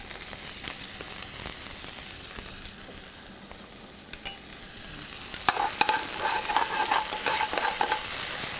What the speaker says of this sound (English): So I'm going to add the garlic.